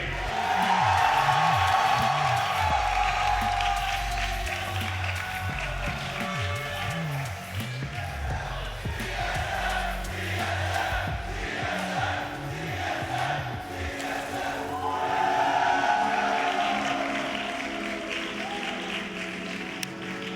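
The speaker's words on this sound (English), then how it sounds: "One more round of applause, guys." A large esports crowd at a Super Smash Bros. Ultimate tournament grand final cheers and applauds loudly and continuously, with whoops and shouts rising over the sustained clapping.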